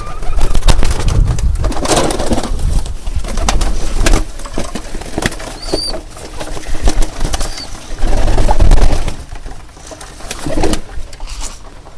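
Lakka fantail pigeons coo steadily in a loft at feeding time, with repeated, fairly loud, low throaty coos and light rustling throughout.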